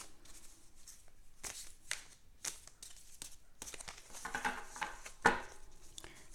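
Tarot cards being shuffled by hand, a run of quick papery riffles and soft slaps, close and fairly quiet, ending in a sharper snap.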